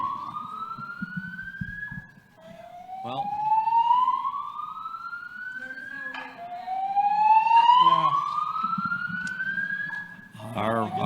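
A building fire alarm sounds during a convention panel, repeating loud rising electronic whoops, each sweep climbing in pitch before restarting, with a faint murmur of people underneath.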